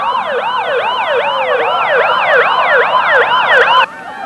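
Ambulance sirens wail loudly and continuously, several overlapping up-and-down sweeping tones, as ambulances deliver healthcare ballots to lawmakers in Washington, D.C., cutting off abruptly near the end.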